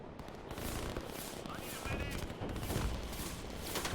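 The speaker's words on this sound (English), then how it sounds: "you can see the helicopters rapidly taking out these artillery over here" Helicopters firing on artillery in a real-time strategy battle, dense rapid bursts of machine-gun fire and explosions rattling continuously and loudly throughout.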